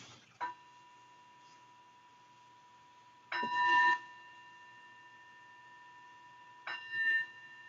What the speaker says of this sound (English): I'm going to begin again by inviting the bell.